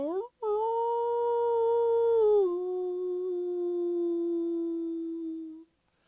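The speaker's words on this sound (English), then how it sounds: "I began to hear the sound of howling wolves." A single long wolf howl rises, holds and slowly falls away, loud and close, followed by a second sustained howl that fades out, set in a remote mountain pass at midnight.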